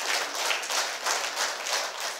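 Audience in a Buddhist vihara in Nagpur breaks into sustained, dense applause, steady clapping with gentle swells in volume, fairly close and unbroken by talk.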